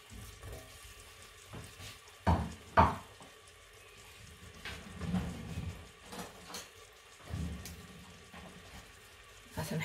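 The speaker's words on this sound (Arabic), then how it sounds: "نحرك شوي" A spoon stirs food with raisins in a pot while cooking Amazigh-style couscous. A few faint scrapes and clinks come now and then, including two sharper knocks near the start, over a quiet background.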